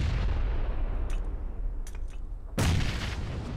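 Grenade explosions in the video game PUBG, with rumbling gunfire-like blasts throughout and one sharp, loud detonation near the end, with no talk.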